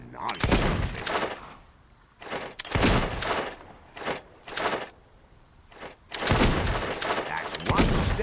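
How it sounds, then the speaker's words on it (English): Bursts of gunfire from target shooting in the Fable 2 video game, several loud volleys separated by short pauses, with a game voice heard between shots. "Oh, nice shooting."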